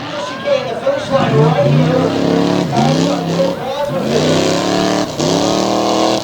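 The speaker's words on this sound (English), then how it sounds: "Stacy Jensen flags him away, and Hicks takes off full throttle" A big black Yukon monster truck roars off at full throttle in an arena event, its engine revving in loud repeated climbs, while an announcer talks over it.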